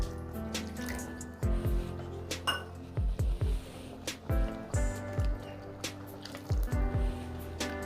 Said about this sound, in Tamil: கொஞ்சம் கப்பை அலம்பிட்டு மிக்ஸி ஜாரை அலம்பி கொஞ்சம் தண்ணி ஊற்றிடுறேன்.